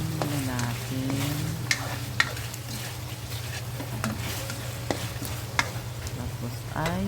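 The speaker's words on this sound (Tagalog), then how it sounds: "haluin muna natin." Chicken in coconut milk being stirred in a pan, a low bubbling simmer with occasional sharp scrapes and clinks of the utensil against the pan, steady and fairly quiet.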